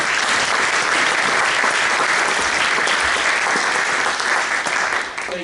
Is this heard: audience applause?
yes